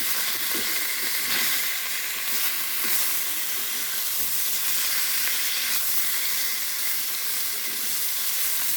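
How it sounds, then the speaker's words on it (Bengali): Pieces of rohu fish frying in a pan, a dense, steady, close sizzle with faint crackles and occasional spatter, alone without speech. "রুই মাছগুলো আমি একটু ভাজে নিচ্ছি।"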